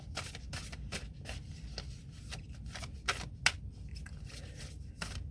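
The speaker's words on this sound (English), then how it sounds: "This is what I do. I shuffle." Rapid papery riffling of a deck of reading cards being shuffled, in short repeated bursts with a few sharper snaps, close by and fairly quiet.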